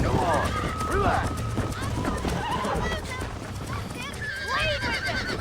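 Horse neighing and whinnying over clip-clopping hooves in the Red Dead Redemption video game, loud and close, with repeated whinnies over a steady galloping rhythm and someone shouting over it.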